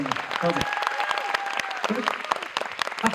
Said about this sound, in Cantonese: 大家可以俾多啲掌聲